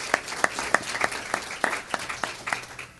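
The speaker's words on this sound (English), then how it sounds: "So give him a hand clap." A congregation at a Sunday evening church service claps by hand in an uneven, fairly steady rhythm, with sharp distinct claps at moderate distance and no talk over them.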